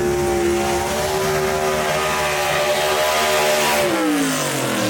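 A Chevy gasser drag car in the B/Gas class launches off the starting line at Kil-Kare Dragway. A loud, steady engine roar holds high revs with a strong harmonic drone, then shifts pitch near the end, close and continuous.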